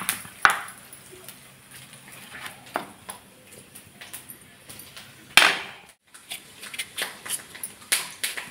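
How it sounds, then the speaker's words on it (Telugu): Cucumber skin being peeled by hand, close and fairly quiet: uneven scraping and chopping strokes in short bursts, with one sharper, louder stroke about midway and a rapid run of strokes near the end. "ఇప్పుడైతే దోసకాయ తొక్క తీసుకుందాం"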